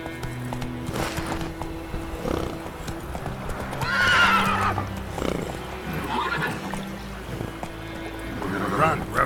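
The horse Roach in the game The Witcher 3 neighs and whinnies over galloping hoofbeats, with a shrill whinny rising near the middle and another near the end, while a person talks throughout.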